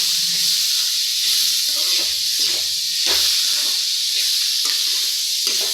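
Curry leaves and tamarind sautéing in a pan for chutney give a constant loud sizzle and hiss, close up, with light stirring scrapes rippling through it.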